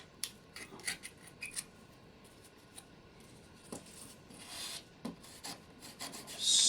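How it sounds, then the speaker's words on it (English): A knife edge scrapes and rubs along foam, smoothing the rounded edges of a Star Wars style blast door prop. Close, dry rasping strokes come in irregular bursts with short gaps, growing louder toward the end. "Smooth the foam down a bit, especially on the rounded edges"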